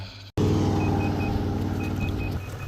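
An electric scooter with a new motherboard sounds a repeated short electronic warning beep over the steady whir and rumble of its motor, the beeps arriving in evenly spaced bursts close by.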